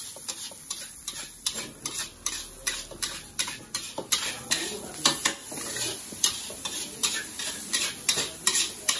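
Mie letek noodles fry in a pan at a Javanese bakmi stall, with a steady sizzle under rhythmic scraping and clinking of a spatula against the pan, close and moderately loud, with no talk.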